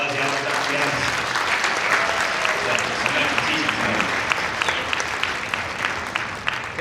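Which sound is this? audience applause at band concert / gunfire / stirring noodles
audience applause at band concert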